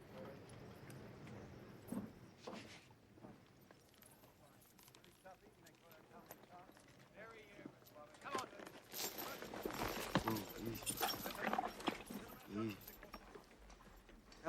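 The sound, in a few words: horse hooves clip-clopping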